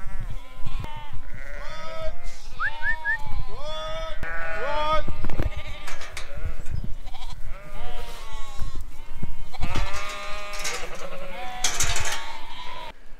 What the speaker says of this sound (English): Go, Lambs! Go on, girls, go on!